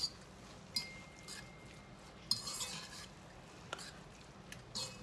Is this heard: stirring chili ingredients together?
yes